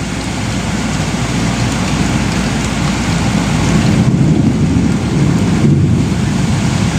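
A thunderstorm with heavy rain hammers down in a thick, constant roar, and low rumbling thunder swells up near the end, all loud and close with no one speaking.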